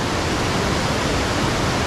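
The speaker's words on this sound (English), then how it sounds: "I'm using the flow of the water as a leading line up to the waterfall." Waterfall at Cwmorthin quarry pouring steadily, a dense, continuous rushing roar of water with no let-up, close and loud, with no voices.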